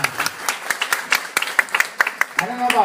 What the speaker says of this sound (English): How about one more round of applause to LaRita and Michael?